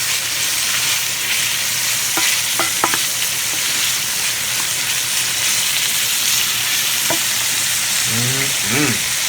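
Sliced pork seasoned with cayenne pepper fries in a pan with a steady, dense sizzle, broken by a few scraping stirs and utensil clicks near the end.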